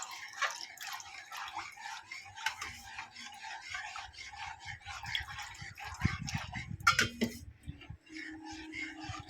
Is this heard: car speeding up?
no